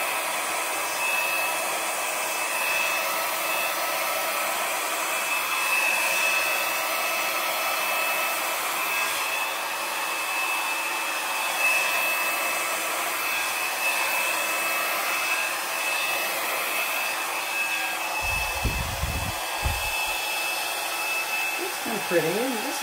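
An air blower hisses steadily and loudly at close range as it pushes wet acrylic paint across a poured canvas, its continuous whoosh barely changing for over twenty seconds.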